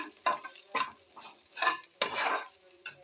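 Grated coconut dry-roasted in a pan for a Chettinad-style mutton gravy, with a spatula stirring and scraping in four or five distinct bursts and quiet pauses between them, close and clear.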